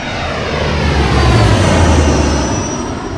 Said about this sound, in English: The engines roar to life, blasting them away and into the atmosphere above.